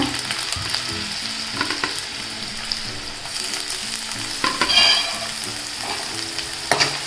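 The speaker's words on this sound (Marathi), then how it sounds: "हे सगळं परतून घेते कांदा लाल झाला" Onion, green chilli and curry leaves fry in hot oil in a pan while making egg bhurji, giving a steady close sizzle with occasional louder crackles and stirring scrapes, with no talking.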